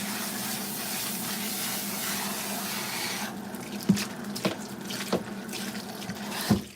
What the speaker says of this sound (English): So I'm gonna wash her first.